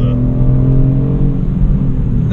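A 2018 Kia Stinger GT2 AWD sports sedan engine pulls hard under acceleration, a steady, loud, close rumble and drone with no break.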